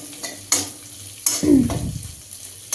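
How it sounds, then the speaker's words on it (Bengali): Chopped onions hit a hot pan and fry with a rising sizzle, stirred with a few scraping strokes and clinks of a utensil, close and moderately loud with no talking. "আগে থেকে কেটে রাখা পেঁয়াজ দিয়ে ভালো করে এটা ফ্রাই করবে"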